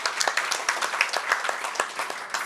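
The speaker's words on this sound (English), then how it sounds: "I just like to give them a round of applause for that." An audience at an Israeli Heritage Foundation speaking event claps together in a dense, steady round of applause, fairly close and loud, with individual sharp claps standing out from the crowd.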